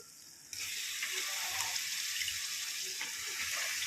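Brinjals dropped into hot masala gravy in a pan, a sudden onset of sizzling that then holds as a steady, hissing fry close by.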